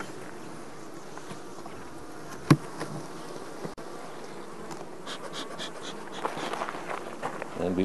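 Bees in an open Langstroth hive after the inner cover is lifted with a hive tool and smoked, a faint steady insect buzz and hum running throughout, with a sharp knock or tap near the middle and some handling rustle toward the end.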